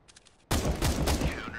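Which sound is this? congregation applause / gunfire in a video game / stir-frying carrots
gunfire in a video game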